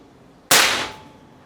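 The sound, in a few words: PCP air rifle shot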